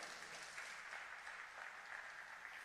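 A church congregation applauds during a Spanish-language sermon on tithing, a steady, fairly distant wash of clapping that holds evenly throughout with no voices over it.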